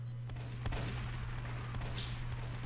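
Gunfire in the Roblox video game, a few sharp shots and bursts over a constant low hum, moderately loud with no talking.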